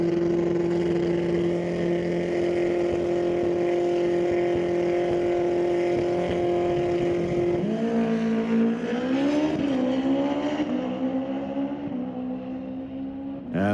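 A 2003 Honda drag motorcycle on a quarter-mile strip gives a loud, steady engine drone that holds, then climbs and shifts in pitch through several stepped revs toward the end.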